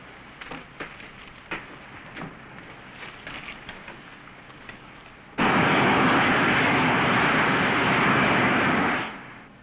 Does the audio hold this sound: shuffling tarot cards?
no